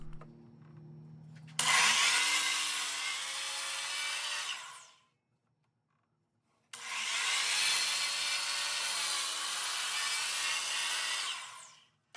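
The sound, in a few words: miter saw cutting wood strips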